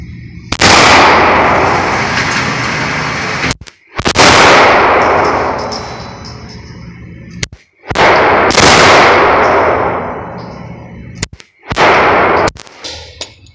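Gunshots at a gun range: four loud, sharp reports spaced several seconds apart, each trailing into a long ringing decay, with no talking between them.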